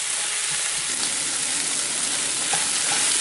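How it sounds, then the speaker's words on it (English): Mushrooms fry in a hot pan, a loud, continuous, even sizzle and hiss close up with no talking. "Now I am adding mushroom. Fry it for 5 minutes."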